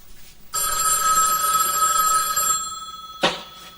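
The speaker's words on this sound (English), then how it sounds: "Phone for you. There's always the phone for me." A telephone bell rings in one long, loud, bright trill lasting about two seconds, then a short clunk follows as the call is answered.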